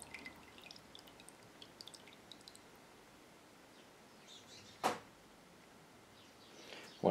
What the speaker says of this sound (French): Je la laisse s'égoutter un peu.